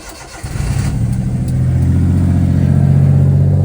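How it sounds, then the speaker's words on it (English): A 660 cc Honda Acty kei truck engine cold-starts with a brief crank, then settles into a steady, loud, close idle that holds to the end. "good old 660 Honda Acty cold start"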